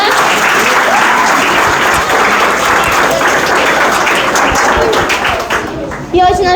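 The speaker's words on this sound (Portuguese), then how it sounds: "eu queria uma salva de palmas pra nossa mãezinha" An audience in a classroom or hall claps in strong, dense applause that fills the space continuously, with voices mixed in, before tapering off near the end.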